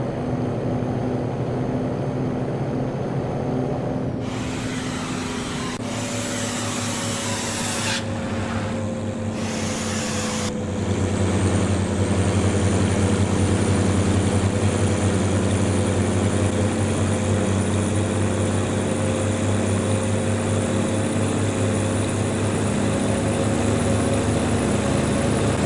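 Mercedes Atego truck engine in Euro Truck Simulator 2 droning steadily, rising in pitch and loudness as it accelerates, with a few sharp bursts of noise early on and no talking.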